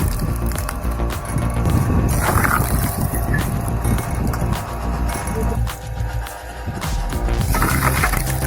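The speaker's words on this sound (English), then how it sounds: "This handmade machine, powered by a 3 kilowatts motor and equipped with 32 gears" A handmade machine driven by a 3 kW motor through 32 gears runs continuously, a loud dense mechanical clatter of ratcheting and meshing gears over a steady low motor drone, close and unbroken throughout.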